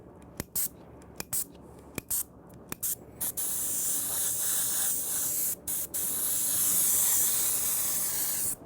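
Airbrush spraying water-based candy paint, first in short clicking hissy bursts, then a steady continuous hiss of light fogging, near and fairly loud, with a couple of brief breaks.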